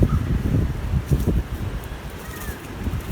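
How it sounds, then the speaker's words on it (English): Wind buffets the microphone in low rumbling gusts, with faint rustling and a distant bird call in the background. "It's super windy today"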